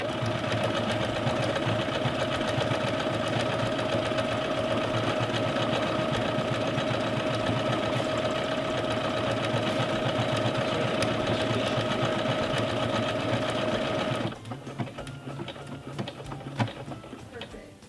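A Singer Legacy C440 sewing machine stitches steadily at a fast, even pace for most of the clip, then stops abruptly, leaving only quieter rustling and handling noise.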